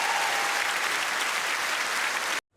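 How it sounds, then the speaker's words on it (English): An audience applauds a woman at a comedy show, loud continuous clapping that holds steady and then cuts off abruptly. "Round of applause for the fantastic lady"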